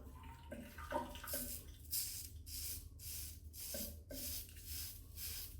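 Running water rinses hair off a razor, a soft spray with rhythmic bursts and splashes as the blade is moved under the stream, faint and close, with some clinking in the first seconds.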